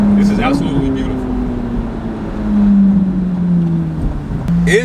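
Up close, the engine of a Chevrolet Corvette C8 Z06, 670 hp and revving to 8600 RPM, holds a loud steady drone that climbs, sags slowly, then blips sharply at the end.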